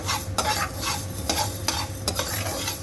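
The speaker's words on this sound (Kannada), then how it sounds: "ಈ ಥರ ಧನಿಯಾ ಒಂದು ಸ್ವಲ್ಪ ನೋಡಿ ಶಬ್ದ ಬರುತ್ತೆ ಅಷ್ಟು ಇದರಲ್ಲೇ ಹುರಿಬೇಕು" Coriander seeds dry-roasting in a hot kadai, stirred in close with a steady rustling, scraping crackle and a few sharper clinks from the pan, with no voices.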